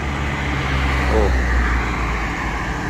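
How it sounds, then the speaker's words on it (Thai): A car climbing a steep hill road at Noen Pha Som Bon in a relaxed way with no hard acceleration, giving a steady, loud engine and road rumble that holds level throughout. "คันนี้แบบมาชิวๆครับไม่ได้เร่งแรงชิวๆครับไม่ได้ใส่คันเร่งมาแรงครับ"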